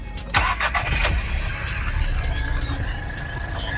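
Engine of a VW/Škoda 1.0 TSI car with engine flush added, cranking briefly and catching, then settling into a steady idle with a faint squeal, fairly close with no voices.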